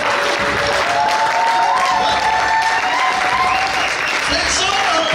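A church congregation at a French-language seminar applauds steadily, a dense, loud wash of clapping that fills the whole stretch, with voices and music tones mixed underneath.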